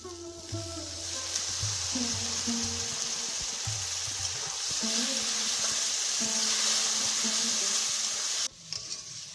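Spices cooking down with a splash of water, salt and turmeric for a tilapia and yogurt curry, giving a steady, close, bright sizzle that runs the whole time and cuts off abruptly near the end.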